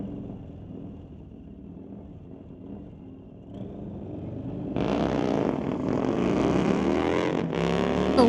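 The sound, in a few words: Harley-Davidson motorcycle doing a wheelie at drag strip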